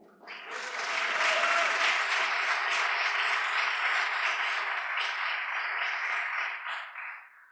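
Full audience applause at an awards ceremony, swelling quickly into a dense, even roar of many clapping hands that holds steady for several seconds, then fades out together.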